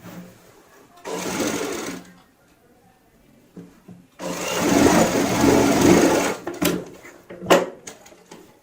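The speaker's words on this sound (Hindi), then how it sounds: "अब हमें यहाँ पे सिलाई लगानी है इस तरीके से, और ये सिलाई हम तकरीबन 4 इंच तक लगाएंगे यहाँ से।" A sewing machine stitches a seam while altering the fitting of a readymade gown, running in two bursts, a short one then a longer steady whir, separated by quiet pauses and followed by a few handling clicks.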